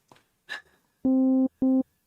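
Two short bursts of a steady pure sine wave synth tone play, a longer one then a brief one, after a few faint clicks.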